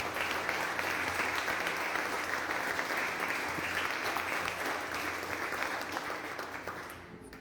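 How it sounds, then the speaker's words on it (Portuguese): A church congregation at a spiritual growth service applauds in praise, with sustained, even clapping from many hands that fades slightly at the end. "Vamos aplaudir o nome do Senhor."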